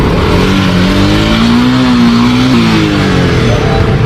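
A delivery rider's motorcycle engine idles loud and close with a steady hum that rises slightly in pitch and then settles.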